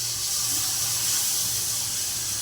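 Water is poured into a simmering egg curry gravy, a continuous steady rush of liquid close by with no pauses, alone without talk.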